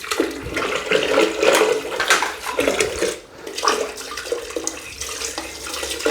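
Water gushes and splashes down a bathroom floor drain, loud and close, with uneven surging bursts and a brief lull midway.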